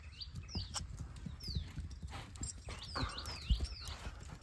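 A tall Panchkalyan mare's hooves clip-clop in a steady walking rhythm at moderate distance, with chirping birds and light outdoor background noise.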